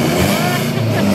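A car engine revs loudly and steadily in an open field at night, a continuous close roar filling the whole moment while voices talk over it.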